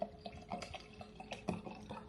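Water is poured to dilute Gatorade, with soft drips and light splashes falling in an uneven patter, faint and close.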